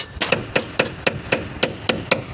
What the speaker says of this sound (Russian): Разбить стекло молотком тоже проблема.